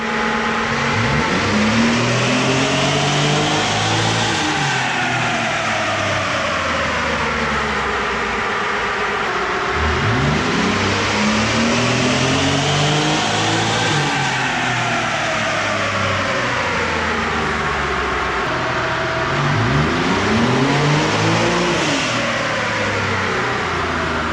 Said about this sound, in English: he's about to put this truck up on the dyno to get some before numbers